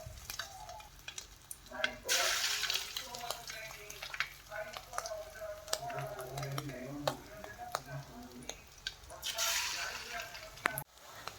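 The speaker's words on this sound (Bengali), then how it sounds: "তেল গরম হয়ে গেছে তো এখন কড়াইয়ে দিয়ে দিলাম" Gram-flour and rice-flour fritters sizzle in hot oil in a wok, a close crackling hiss with stirring clatter and two louder bursts, and a voice speaks quietly underneath at times.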